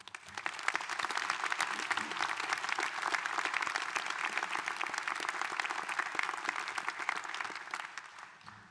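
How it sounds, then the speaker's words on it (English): A large audience at a university graduation ceremony in Townsville gives a big round of applause, crisp and sustained clapping from many hands that swells quickly, stays full and then tapers slightly near the end. "can we please give a big round of applause?"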